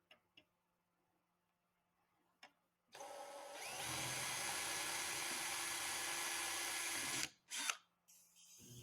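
A power drill bores mounting holes with a number 30 bit during a Talon A600 build. It runs as one loud, steady whine for about four seconds, then cuts off, with a few faint clicks before and after and no talk.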